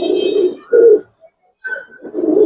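Pigeons coo in a loft, several throaty rolling coos in quick succession with short pauses between, close and clear.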